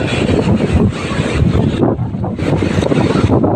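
Loud, steady roar of strong wind buffeting the microphone over crashing sea waves on a beach, a continuous rushing surge with no voices.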